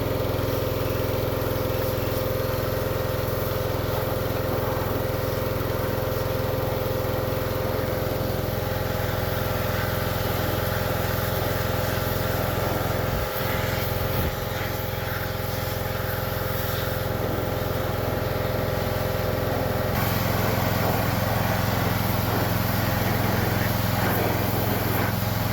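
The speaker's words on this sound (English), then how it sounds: "The pressure washer did a great job cleaning this up, and I'll put in a few clips right here of that." Pressure washer blasting grime off a Husqvarna 51 chainsaw during a restoration, a loud, continuous motorized drone with a steady hum and hiss running unbroken throughout, no talk.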